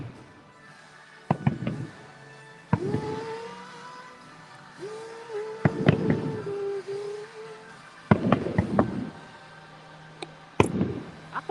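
Fireworks show at Disney World's Magic Kingdom during a holiday night: sharp bangs and crackling bursts come in scattered clusters over a steady crowd and music bed, with some louder booms near the end.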